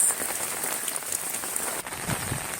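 Heavy rain pours in a dense, constant hiss of drops striking surfaces, fairly faint and steady with a brief low thump near the end and no talking.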